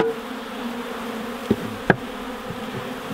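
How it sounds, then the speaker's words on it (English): Honey bees buzzing around a hive, a steady close insect drone with a couple of brief knocks, no voices. "This is a can of sugar syrup in order to feed the bees."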